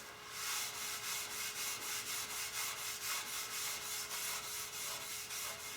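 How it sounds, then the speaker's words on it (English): Super fine steel wool scrubs a 1972 K25 aluminum grill by hand, producing a faint, steady train of quick rhythmic rubbing strokes, about three per second, with a soft scratchy hiss and no talking. "just with the steel wool, super fine, and see how well it cleans up."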